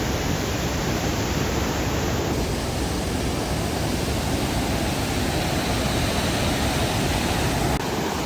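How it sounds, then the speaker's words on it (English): A constant, dense roar of a large waterfall rushing nearby on Glacier National Park's Upper McDonald Creek Trail, loud and unbroken from start to finish. "we're right next to a big waterfall"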